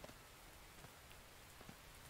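Steady rain pattering on surfaces in the survival video game The Infected, a soft continuous hiss with a few scattered drop ticks, heard alone with no voices.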